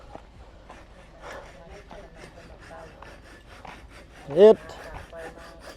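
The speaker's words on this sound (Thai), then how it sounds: "โอ้เลื่อยก็บ่ค่อยคมปานใด" A dull hand saw cuts through wood during construction of a small hut, making a series of rhythmic rasping strokes at close range, with someone talking in between.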